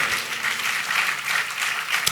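Loud, sustained applause from a church congregation during a sermon, a dense even patter of many hands clapping without break.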